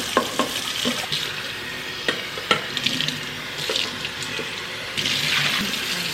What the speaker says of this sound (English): I might try scrubbing it with this pad and then throw it in the wash.